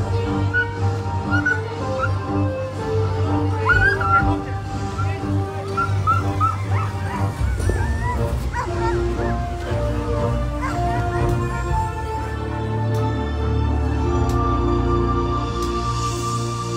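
Excited sled dogs at the start of a stage of a mushing race in Megève, barking, yipping and whimpering continuously and loudly throughout, with a dense chorus of several dogs close by.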